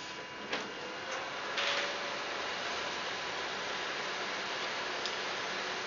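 A number plate printer feeds material through and prints, producing a steady close mechanical hum with a few soft ticks and a brief rustle near the start, and no talking.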